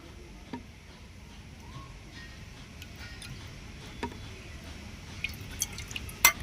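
Vinegar goes little by little into milk to curdle it for khirmalai sweets, heard as faint, sparse drips and small liquid ticks against a quiet background that grow slightly more frequent toward the end.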